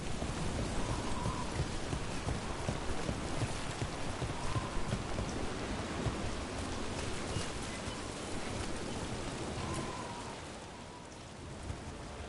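Steady rain in the video game Dragon Age: The Veilguard pours continuously with a soft hiss and patter, a faint rumble beneath, no voices.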